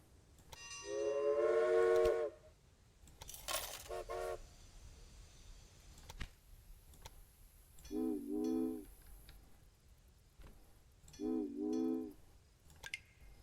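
A steam train whistles in the video game Railway Empire, one long toot followed by two shorter paired whistle blasts, with a burst of chuffing between and quiet rail ambience.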